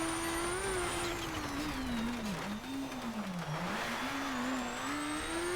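Car engine in the rally racing game Colin McRae: DiRT, with a buzzy, motorbike-like tone: a continuous droning engine note that rises and dips with revs throughout, steady and fairly loud, with no talking.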